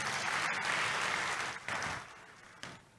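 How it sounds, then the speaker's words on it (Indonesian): Church congregation applauding during a sermon, a dense, steady wash of clapping from many hands that swells and then tapers off toward the end. "Tepuk tangan buat Tuhan Yesus."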